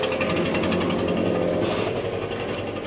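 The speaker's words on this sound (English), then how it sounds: "Ricky, this is my blower. I have the Echo 7, TB770T" An Echo PB-770T backpack leaf blower runs steadily and loudly up close, a continuous engine roar with a rough, buzzing drone throughout.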